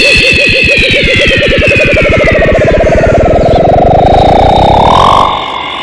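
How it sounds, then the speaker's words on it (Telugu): A motorcycle engine revs loud and close, its pitch climbing steadily and wavering for about five seconds before it drops away abruptly at the end. "ఈ బైక్ సౌండ్లు ఏంటి?"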